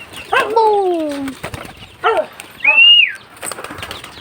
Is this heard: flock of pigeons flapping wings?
yes